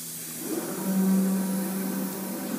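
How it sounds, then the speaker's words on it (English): A MultiCam 3000 Series 5x10 CNC router changes its tool and begins warming its spindle, giving a steady mechanical hum and whir that swells briefly in the middle, heard alone at moderate volume. "the machine's going to automatically grab the tool and begin the warm-up"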